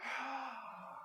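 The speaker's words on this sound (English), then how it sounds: "Breathe out through your mouth. Make that sound." A single soft exhale through the mouth during a breathing exercise at a workshop, a short breathy sigh close by, fading over about a second.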